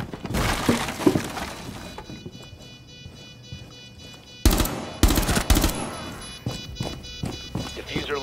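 Bursts of video game gunfire and shattering break apart a defuser placed near a bomb, with rapid shots and breaking crashes under a voice speaking.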